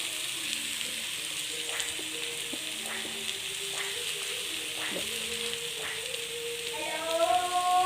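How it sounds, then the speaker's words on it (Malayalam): Cornflour is stirred into a vegetable curry in a pan, with a continuous soft sizzle and bubbling and several scraping stir strokes that grow louder toward the end. "4 സ്പൂൺ കോൺഫ്ലവർ ഇട്ട് നല്ലവണ്ണം ഇളക്കി അങ്ങ് എടുക്കണം"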